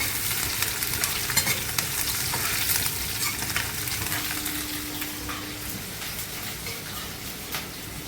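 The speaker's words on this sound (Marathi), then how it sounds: "त्यातच हिरवी मिरची ते चांगलं फिरवून घ्यायचं ते ही तांबूस रंगावर करायचं आहे" Green chillies stirred and frying in hot oil with garlic in a pan for Punjabi kadhi, a steady close sizzle with scraping spoon strokes throughout, no talking.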